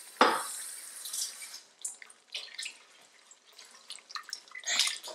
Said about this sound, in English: Rinse out your blender with a bit of water and add it back in.